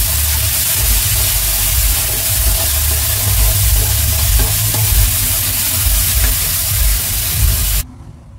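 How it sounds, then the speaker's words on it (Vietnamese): Seasoning with sugar and salt is stir-fried in a pan, giving a loud, continuous sizzle and hiss with scraping stirring sounds, cutting off abruptly near the end. "Xào cho thấm như vậy rồi mình tắt lửa"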